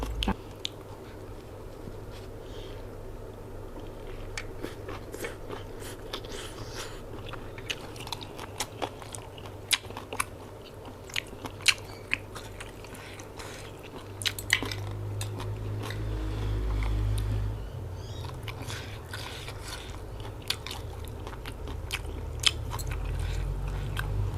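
Spicy glass noodle salad with squid and dried shrimp being eaten up close, with steady wet chewing and crunchy bites, occasional utensil clinks against a dish and a low background hum, no talking.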